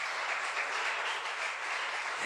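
A church congregation applauding during a sermon, a continuous, even spread of clapping heard at a distance and fairly faint, with no voices over it.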